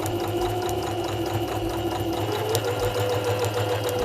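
A sewing machine runs steadily, its needle stitching in a rapid, even mechanical rhythm with a constant motor hum throughout.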